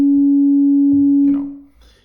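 A Behringer Kobol synthesizer filter at full resonance rings out as a loud, steady, pure whistling tone, holding for over a second before fading, with a faint rumble underneath.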